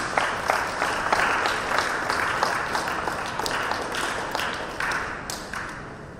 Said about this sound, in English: So you can acknowledge her efforts, children, by clapping your hands.